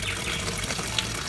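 Water flows and gushes steadily in an outdoor spot at a goat farm, a continuous close rushing wash with no break.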